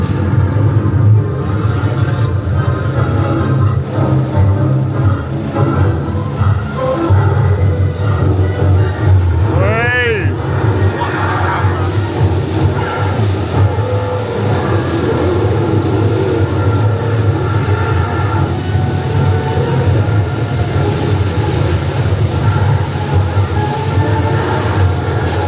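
A theme park tram tour vehicle at Movieland Park in Verona, Italy, rolling along with a continuous low rumble and rattle, heard close from on board, with a brief rising whine near the middle and faint voices.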